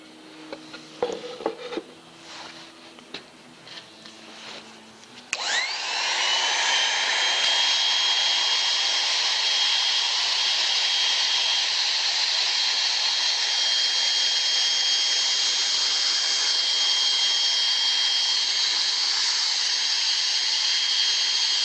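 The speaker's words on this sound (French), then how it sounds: "Je l'ai passé au décapeur thermique, enfin plus qu'un décapeur thermique, c'est un truc qui chauffe très fort" Powerful heat gun heating a surface on a C15 van restoration: after a few knocks and clatter it switches on abruptly into a loud, steady roaring blow that continues unchanged.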